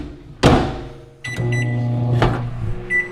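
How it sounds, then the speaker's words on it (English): A household microwave oven is set running with a sharp click and beep, then settles into a steady, close electric hum with a buzzing drone, broken by another click and a final short beep. "Throw this in the microwave for a couple minutes."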